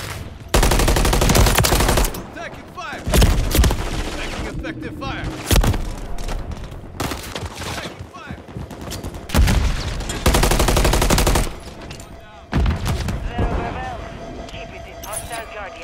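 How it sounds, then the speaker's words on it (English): Heavy bursts of automatic gunfire and booming shots in the video game Call of Duty Modern Warfare 3, loud and close, coming in intense volleys separated by short quieter gaps, with voices shouting in between. "Taking fire! Taking effective fire!"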